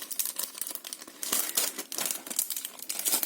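A plastic bag of paper die-cuts shaped like small fairies is opened up close, giving continuous crinkling and crumpling of thin plastic with brief tearing bursts, steady and fairly loud with no talking.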